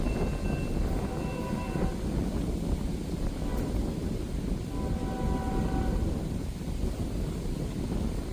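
A CSX northbound freight train rolls in on the main line at the Kingston, New York yard by Flatbush Crossing, with a steady loud rumble, wind buffeting and brief horn tones near the start and middle.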